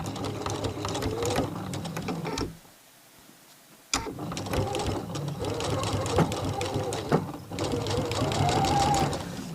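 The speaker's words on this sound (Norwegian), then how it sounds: "Og så syr jeg hele veien til neste hjørne." A sewing machine stitches along the double binding edge of a blanket in close, busy bursts of rapid needle chatter, pausing once for about a second and a half before running on again.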